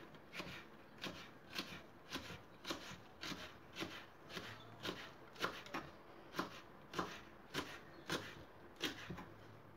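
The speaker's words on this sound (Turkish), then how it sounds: "Ve yeşil biberlerimizi de ince ince doğrayalım." Halved, deseeded green peppers being finely chopped with a knife on a board, a steady run of crisp, evenly spaced taps, close and quiet, with no voices.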